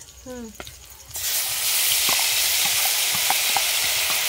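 A paste of ground cashew, ginger and melon seeds, mixed with garlic, hits a hot pan and sizzles loudly and steadily, with faint stirring clinks. A brief voice speaks just before the sizzle starts.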